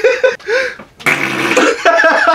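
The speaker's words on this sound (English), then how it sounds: "Thought he was going to make reindeer fart." A fart noise comes from a reindeer on a DIY ugly Christmas sweater, loud and close. Several blurting bursts mix with voices and laughter.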